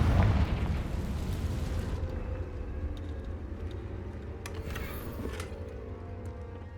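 A Confringo fire spell bursts with a loud explosive boom in Hogwarts Legacy, then a long rumbling roar fades slowly, with a few faint crackles after it and no talking.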